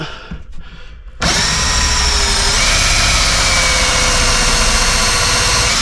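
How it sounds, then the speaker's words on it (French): A cordless screwdriver whirs loudly and continuously while driving screws into van furniture, after a short quieter lead-in, its motor pitch shifting slightly as it drives. "Un coup de visseuse."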